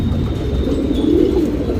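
A male Kaawa Guldhar pigeon coos once, a soft, throaty rolling call, close by, over a steady low background hum.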